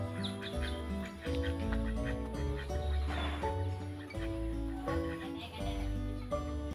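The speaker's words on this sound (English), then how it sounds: "Here, so many ducks are playing in a beautiful pond." Ducks quack repeatedly on a pond outdoors, several birds calling in irregular bursts at moderate distance, with other faint bird chirps mixed in and no talking.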